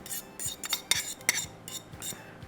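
A spoon clinks and scrapes against a bowl while grated cucumber is stirred into tzatziki, a repeated clattering of metal on dish, close and crisp, with no one talking.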